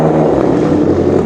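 A damaged rally car's engine roars steadily at close range as it drives away from a service park, with a rough low rumble and wind noise.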